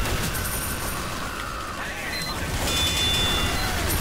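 Constant blind gunfire from a Heavy's minigun and the surrounding combat in Team Fortress 2 Mann vs Machine, a steady loud barrage with no pauses, mixed with game effects and faint voices.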